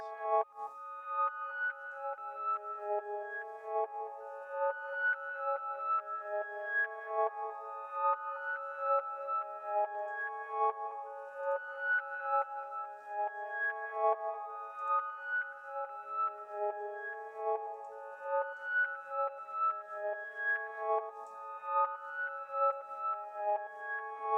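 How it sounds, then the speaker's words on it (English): A melodic synth line is processed through a StudioRack VST echo plugin. Rippling repeated notes trail off into layered delays, steady and smooth throughout with no voices. "Giving it a little echo space."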